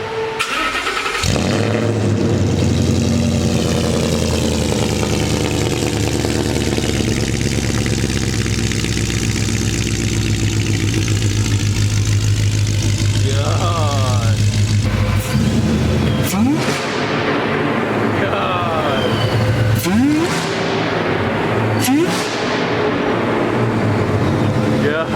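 A supercharged, lifted 2015 Ford F-150 starts up in a parking garage and idles loudly with a deep, steady rumble, briefly revving in the echoing space while people talk over it.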